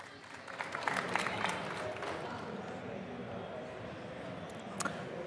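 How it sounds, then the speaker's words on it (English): Audience at EGX 2017 applauding Dan and Adam DeRocha of Toxic Games, a steady wash of clapping from a sizable crowd in a large hall, moderately loud and continuous with a few sharper claps near the end. "Please give them a round of applause."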